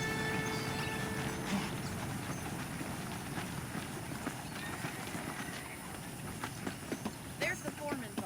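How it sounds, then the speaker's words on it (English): Horse hooves clip-clopping in the video game Red Dead Redemption, a soft steady patter of hoofbeats under continuous background ambience, with sharper hoof clicks growing clearer toward the end. "The horses are saddled up over here."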